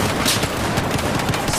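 Rapid gunfire from a Battlefield 4 match, dense and loud bursts of shots crowding one another across the whole moment with no talk over them.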